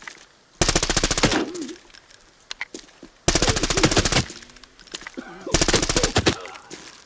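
Submachine gun fire in the game Arena Breakout Infinite: three loud, rapid automatic bursts, each lasting about a second, separated by short pauses with faint scattered shots between.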